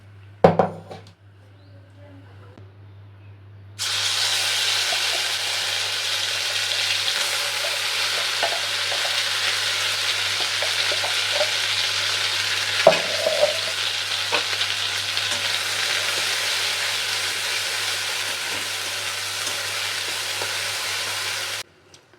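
Ground fried pointed gourd paste added to hot mustard oil in a pan breaks into a loud, steady sizzle after a few quiet seconds, with occasional scrapes and clinks of stirring, and continues until it stops abruptly.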